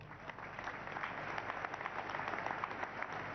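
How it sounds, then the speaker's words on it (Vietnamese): A church congregation gives steady, moderately distant applause for Jesus during a deliverance service, a continuous patter of many hands. "Vỗ tay cho Chúa Giêsu"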